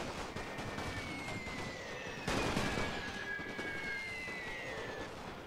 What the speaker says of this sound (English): And now the machine gun, what is it? A Skoda